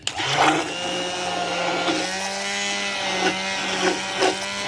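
A mixer grinder whirs steadily, grinding ingredients with about two glasses of water in its jar; the motor hum holds a constant pitch with a few brief knocks and surges.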